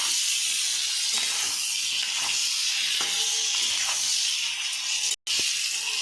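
Capsicum and tomatoes fry in a hot pan, and a loud, steady hiss and sizzle carries all the way through, cut briefly by a sudden drop near the end.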